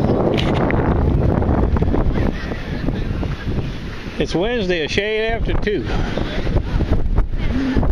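Gusty wind buffets the microphone outdoors in a steady rush, with a person speaking briefly partway through.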